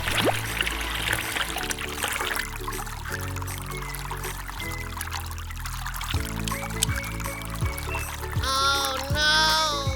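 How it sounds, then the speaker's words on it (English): A LEGO Technic water pump pushes water in a steady pouring trickle that runs continuously throughout, with music-like tonal sounds over it and a brighter splashing burst near the end. "Testing water pump works."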